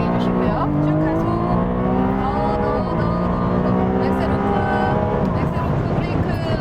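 A Ferrari 296 GTS V6 plug-in hybrid engine roars loudly up close on a race circuit, revving higher through the gears with brief dips at each shift as it accelerates hard.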